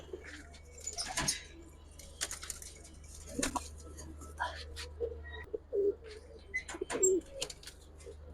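Giribaz high-flyer pigeons give soft, scattered coos and a few chirps at close range, fairly faint over a low steady hum.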